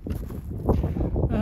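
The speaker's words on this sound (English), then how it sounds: "Woo, windy up here." Strong wind buffets the microphone on an exposed high point above Ruby and Emerald Lake, on a route from Lime Mesa to Chicago Basin. The low roar is steady and close and swells near the middle.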